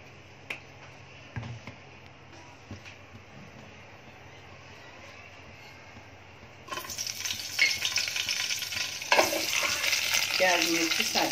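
Onions and chillies dropped into hot oil, starting with a few faint clicks over quiet background and then breaking into a loud, crackling sizzle that keeps going and swells toward the end.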